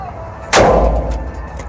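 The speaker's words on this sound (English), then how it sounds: "Let's hit that thing even harder, right in the same area." A hard single strike against an aluminum Ford Super Duty truck body panel lands as one loud, sharp bang followed by a brief dull ringing decay.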